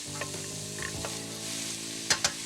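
Onions and ginger sizzle gently in a hot saucepan, a steady frying hiss with a few clinks of a utensil stirring near the end.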